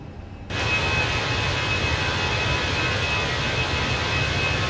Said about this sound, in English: time to reduce our flaps. Flaps up.